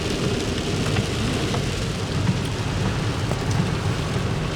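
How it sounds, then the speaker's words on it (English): Rain falls steadily around a car driving down a road, a dense continuous hiss with low road rumble underneath, no voices. "So here we are, driving down the road in the rain."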